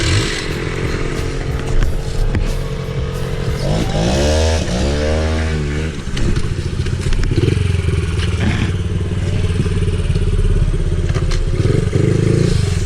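A Honda CRF 50 pit bike idling and revving close by, a loud buzzing small single-cylinder engine with a rising and falling throttle blip partway through, steady drone throughout.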